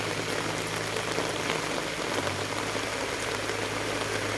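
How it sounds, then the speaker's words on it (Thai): Steady rain falling outdoors, a dense, even patter of drops hissing continuously, with a faint low hum underneath and no voices. "ฝนตกรอบที่สองนะครับ"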